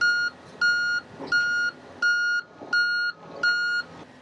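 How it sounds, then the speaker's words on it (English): A Komatsu HM300/400 articulated haul truck's backup alarm sounds six steady, evenly spaced electronic beeps with a faint engine rumble beneath, loud and close. "we can also test our backup alarm"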